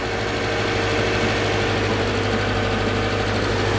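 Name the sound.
Subaru car engine running and idling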